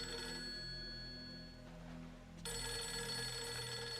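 An in-game telephone rings in Fatal Frame 3, a steady electronic bell tone that drops out briefly and returns over a low, droning ambient hum.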